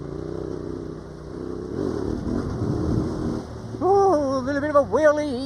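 Yamaha Tenere 700 motorcycle on a dusty bridle track, engine rumbling at idle and then revving hard several times in rising, wavering bursts as the bike lifts into a wheelie, close and loud.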